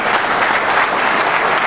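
An indoor audience at a training seminar applauds steadily, a dense, loud wash of many hands clapping at once with no pauses and no voices standing out.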